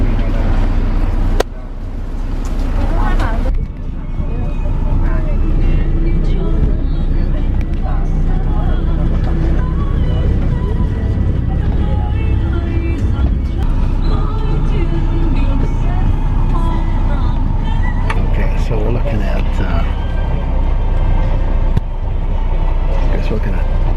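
Inside a sleeper bus driving at night from Ho Chi Minh City to Da Nang, a continuous low engine and road rumble fills the cabin, with a few brief bumps and rattles and faint voices in the background.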